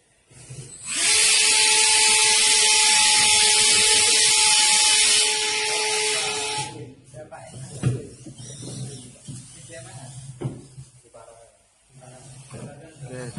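A brushless motor fan on a wheeled fire-fighting contest robot whirs loudly with a steady, high hiss for about six seconds, then cuts off, leaving quieter room noise and voices talking.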